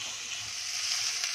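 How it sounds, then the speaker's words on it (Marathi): Mixed vegetables with curry leaves sautéing in a pan for drumstick soup, a soft, even sizzle close by with light stirring, brief and alone without voices. "कढीपत्ता आणि असं परतून भाज्या थोड्या मऊ करून घेऊया."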